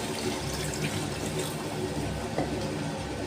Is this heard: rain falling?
no